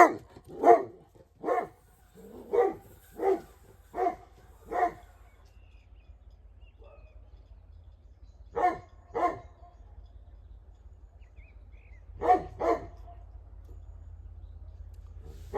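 A dog kept near backyard chickens barks in short bursts, a few single woofs and paired barks spaced by pauses, fairly close and loud over a low steady hum.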